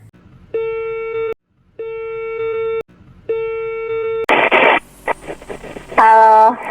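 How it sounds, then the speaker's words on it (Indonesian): Telephone ringback tone while calling someone, three long steady beeps with gaps between them, followed by bursts of static and a connection noise as the line picks up. "sekarang ayo kita telepon narasumbernya"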